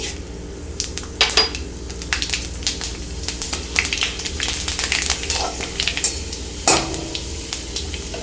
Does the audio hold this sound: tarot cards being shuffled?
no